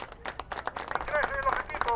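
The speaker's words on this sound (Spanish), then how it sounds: "aplauso." Scattered clapping at a children's football tournament, quick uneven hand claps mixed with excited voices and shouts, moderately faint and somewhat distant.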